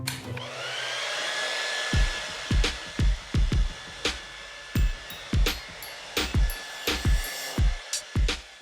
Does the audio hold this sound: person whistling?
no